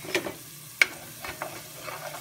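Vegetables seasoned with Tony's, black pepper and garlic powder sizzle softly in a pan as they cook down, with a few sharp stirring scrapes standing out over the low frying hiss.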